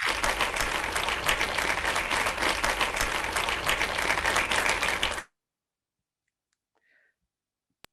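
An audience claps steadily and briskly for about five seconds, a dense wash of hands that stops abruptly, leaving near silence broken by a couple of faint clicks.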